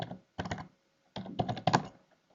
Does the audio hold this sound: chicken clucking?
no